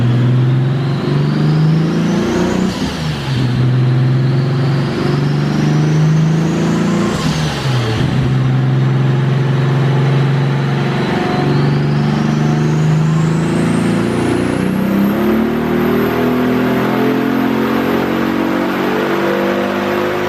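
A Datsun 280Z engine revving hard on a dyno, loud and sustained, rising through several pulls with drops between them and a final long climb to a high steady whine, with no talk over it.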